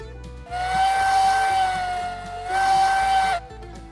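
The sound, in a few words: steam locomotive whistle in video game Railroads Online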